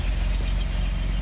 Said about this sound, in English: It's a Dauntless 225. It's an odd-fire V6. It's got a very unique sound to it.